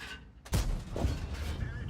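A tank cannon fires in World of Tanks with a sharp, loud boom, then a rumbling tail and mechanical clatter under brief background noise.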